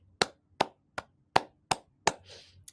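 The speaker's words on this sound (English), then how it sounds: "If you think it's the rhythm, clap the words." Six sharp hand claps spaced unevenly to follow the rhythm of spoken words, close and clear against a quiet room, with a soft breathy noise after the last clap.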